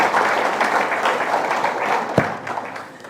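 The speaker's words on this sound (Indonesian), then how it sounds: "mari kita beri tepuk tangan untuk semua yang terlibat di proses ini." Audience applause for everyone involved in a Jakarta spatial planning process, a steady crowd clapping that gradually fades, with a sharp knock or thump partway through and scattered claps trailing off.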